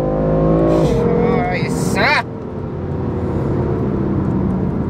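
A 2015 BMW M4 engine roars loudly, its pitch dropping and climbing as it downshifts into third and then second gear, with a rising whine under a voice speaking over it.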